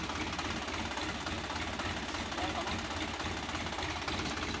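A 2017 Eicher 551 tractor engine runs steadily at close range, a continuous rough, knocking diesel chug with a dense broadband clatter that holds level throughout.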